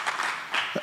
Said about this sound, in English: I'd like you guys to cheer for them again.